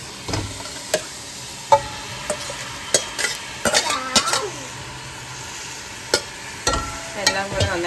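Chicken marinated in curd and salt being mixed with masala in a pan, a quiet sizzle under repeated sharp clinks and scrapes of a metal spoon against the pan at an irregular pace.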